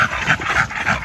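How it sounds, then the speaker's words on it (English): A little blue-eyed puppy named Snow whimpers and whines in short, repeated, close pulses. "I love this little dog."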